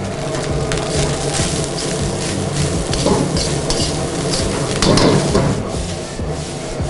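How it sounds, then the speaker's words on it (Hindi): Egg fried rice is stir-fried in a pan, a loud, close scraping and stirring over a steady sizzle, with repeated rubbing strokes of the spatula. "इस तरीके से आप स्टेयर फ्राई करते हैं कोई भी चाइनीज़ आइटम में"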